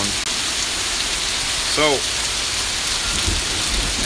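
Heavy rain pours in a dense, unbroken roar over a flooded yard, with a brief bird-like chirp and a short spoken word.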